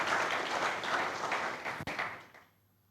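Congregation applauding in a church after a sermon passage, dense clapping at full strength for about two seconds, then quickly dying away into near silence.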